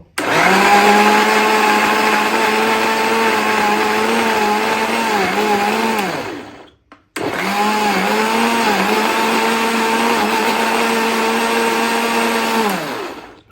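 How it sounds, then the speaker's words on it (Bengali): A kitchen blender whirs through fruit juice in two long, loud, steady bursts separated by a short pause, each winding down as the motor stops. "এখন ব্লেন্ড করে নিব"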